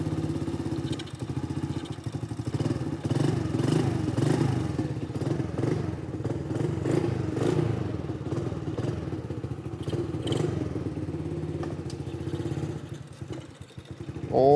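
A Chinese motorcycle engine running on full choke gives a steady, loud, close mechanical drone with a rough, clattery edge throughout, and a brief stumble near the end.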